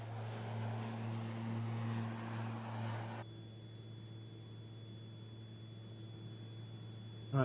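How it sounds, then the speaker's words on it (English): The propeller engine of a Beechcraft Bonanza in Microsoft Flight Simulator 2024 drones steadily and faintly, a low, even hum that thins out partway through as the sound environment abruptly shifts. "It's very easy to over torque this engine, as I've already done a few times."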